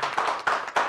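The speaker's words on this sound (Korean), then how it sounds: "박수 한번 보내주십시오" Applause at an online international public housing forum as the next host city is announced, a short burst of claps in three quick swells, close and alone.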